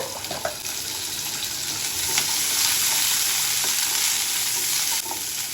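Shallots sizzle steadily in a small amount of hot oil while cooking a country chicken curry, a close, dense, continuous frying hiss with faint stirring scrapes throughout.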